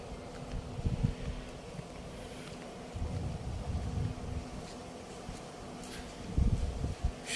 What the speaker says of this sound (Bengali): তো এখানের বাতাসটা খুব লাগতেছে।